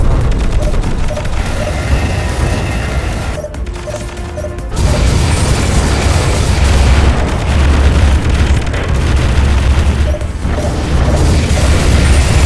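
Explosions and return fire crash through a space battle audio drama. Loud booms, smashes and rattling volleys come in dense overlapping bursts with a brief lull, and a continuous low rumble runs throughout.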